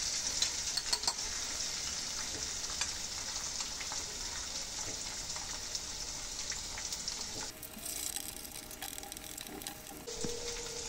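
Beaten eggs sizzle steadily in a hot pan with onions, an even, close frying hiss with faint scraping, for chicken fried rice.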